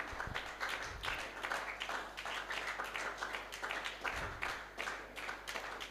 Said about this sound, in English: Thank you, keep clapping.